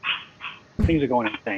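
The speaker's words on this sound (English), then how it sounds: "dogs are barking" Dogs bark in the background at a home while a person talks over them, the barking mixed with excited speech.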